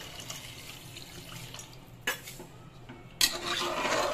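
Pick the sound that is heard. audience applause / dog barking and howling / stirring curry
stirring curry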